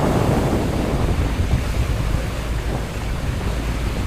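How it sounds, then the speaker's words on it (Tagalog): Rough Pacific Ocean waves heard from aboard a boat, a loud continuous wash of surf and churning water mixed with heavy wind buffeting the microphone, with no voices. "Ngayon ay maalon man."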